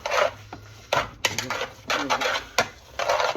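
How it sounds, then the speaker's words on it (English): A spoon stirring a mixture in a pot, with a series of sharp clinks and scrapes against the metal at an uneven rhythm, close and fairly loud, with no voices. "You want to stir it up. You want to mix all that up."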